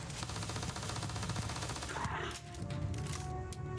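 Sustained rapid gunfire from a Starfield battle rattles steadily and fairly close, with a short break partway through before the shots pick up again.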